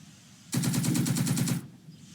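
Machine gun fire in the World War II strategy game Second Front: one rapid burst of about a dozen evenly spaced rounds lasting around a second, loud over quiet background.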